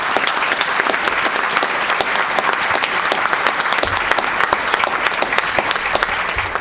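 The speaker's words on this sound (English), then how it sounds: "So a little round of applause for them." Loud, crisp applause fills the room at an academic conference's closing panel as attendees thank the organizers, with steady clapping lasting nearly seven seconds.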